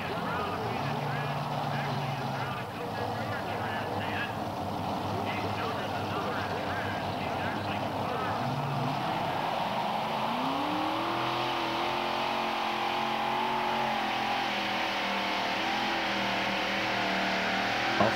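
The War Wagon, a pulling tractor powered by three Arias engines and sponsored by All-Pro, roars through a tractor pulling run at a 1987 NTPA event in the USA, a loud continuous engine drone with rising pitch under steady commentary.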